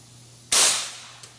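A gun test-fired with a Winchester magnum primer and ping pong ball powder: one sharp, loud report with a decaying tail, followed by a faint click, and no talk.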